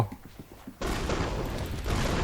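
Explosive guns in the Roblox shooter Arsenal: a few soft pops, then a sudden loud burst into continuous blasting and rumbling explosions that fill the rest of the moment.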